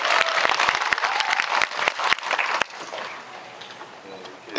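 Audience applause at a film talk event for the movie Money, with dense clapping that is loud and steady for about two and a half seconds, then drops to a quieter scatter with faint murmuring.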